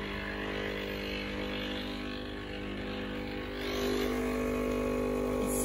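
A Breville Barista Express BES870 espresso machine with a pressure fault runs its pump, a steady droning hum with a loud mechanical buzz that swells slightly near the end, and no talking.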